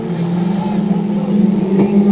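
Junior banger race cars lapping the Cowdenbeath Racewall, a steady droning engine hum carrying through the whole short stretch at moderate distance.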